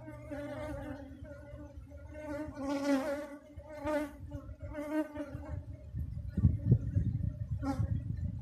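Honeybees buzz steadily and close on a hive frame whose cells hold the queen's eggs, a dense droning hum with rising and falling swells and some handling noise toward the end.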